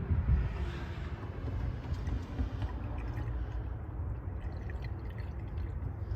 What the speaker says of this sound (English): So I'm going to pour it into here, and I'm going to watch here.